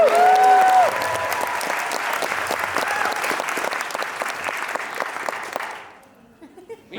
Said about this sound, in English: you give a big round of applause for Rachel